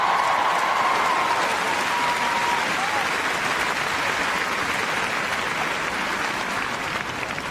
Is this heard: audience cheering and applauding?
yes